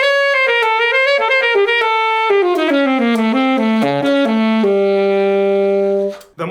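A saxophone plays a descending run of clear, sustained notes with a straight tone, loud and close with no voices, ending in one long held low note that cuts off abruptly.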